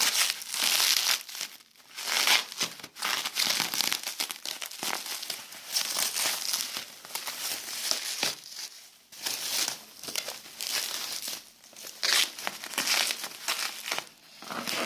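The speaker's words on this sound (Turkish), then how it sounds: "şu paketi de çıkarayım daha rahat olur" Plastic packaging from a Bluetooth joystick being unwrapped crinkles and crackles in close, irregular bursts, with short pauses between handfuls and no talking.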